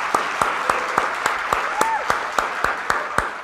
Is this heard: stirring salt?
no